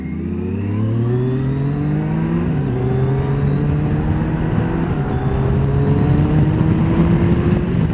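A motorcycle pulls away and accelerates on a damp road, its engine note climbing steadily through the gears, loud and close, with a car engine audible nearby and no speech.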